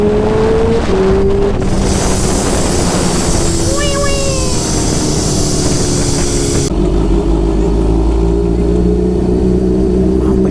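A Kawasaki H2 motorcycle rides through narrow city lanes and neighbourhood streets, its loud, steady engine drone filling the whole stretch and shifting in pitch, with brief high chirps partway through and road noise underneath.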